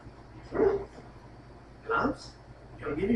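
A dog barking in the Dragon Age: Origins video game, three short barks spaced about a second or more apart over low ambient background, moderately loud and fairly close.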